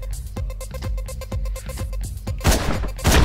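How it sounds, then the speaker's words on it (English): Rapid, loud gunfire in the video game Hotline Miami in repeated bursts, with heavier blasts near the end, no talking. "you hear gunfire, don't you?"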